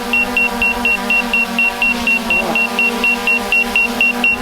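An Autel Evo drone, said to have a fairly large motor, flies during a strength test, giving a steady, loud, buzzing motor whine with a regular series of short beeps pulsing through it.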